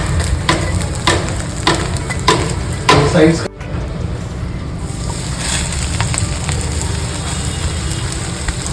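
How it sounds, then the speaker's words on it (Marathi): Bread slices for shahi tukda shallow-frying in ghee with a loud, steady, dense sizzle throughout, broken early by a few sharp clatters. "पूर्ण डीप फ्राय नाही करणार आहे असेच तळून घेणार क्रिस्पी एकदम"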